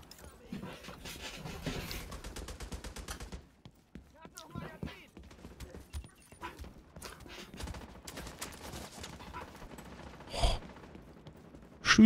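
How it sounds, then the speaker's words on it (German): Gunfire bursts out in the video game The Division 2, with rapid volleys and scattered single shots over about twelve seconds amid combat noise and heavy breathing, while players talk over it. "Schüsse."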